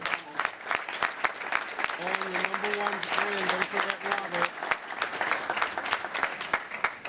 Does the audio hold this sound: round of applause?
yes